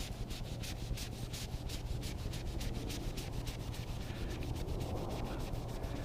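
Steady rhythmic rubbing scrubs a Mercedes R129 door panel with a wet magic eraser, quick repeated strokes close and moderately loud, with no talk over them.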